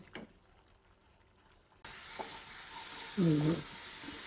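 An onion and chili masala for an egg curry sizzles as it is sautéed, starting faint and then jumping to a steady, louder hiss of frying, with a short tonal squeak of a spatula partway through; close, no talking.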